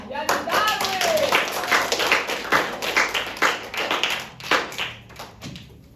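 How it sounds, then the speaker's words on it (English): An audience claps for a student presenter at an accounting presentation, uneven rhythmic hand claps at close range that pulse and thin out, with some voices over the clapping. "Clap hand for Nurandita Dwi Cahyani Darwis."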